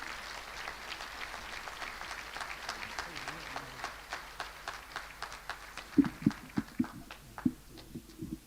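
An audience claps for Prime Minister Ousmane Sonko in a hall, the applause thinning into a scattered, moderate patter, with a few louder, sharper claps near the end.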